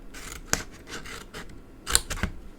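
Scissors snip through cardstock along a score line while crafting twine and jute trim holders, giving a few crisp, close cuts with soft paper rustling between them.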